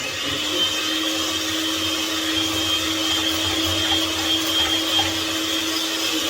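An electric mixer whips egg whites into meringue with a steady, loud, continuous motor whir. It runs unbroken and close, with no talking.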